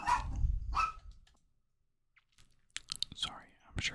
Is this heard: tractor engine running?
no